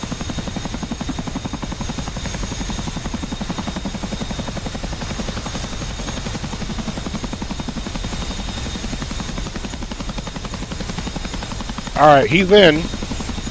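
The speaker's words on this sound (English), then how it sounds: "There he is, running to the chopper." Helicopter rotor beating steadily in DCS World flight combat simulation, a continuous rhythmic chop that fills the scene; near the end someone speaks briefly over it.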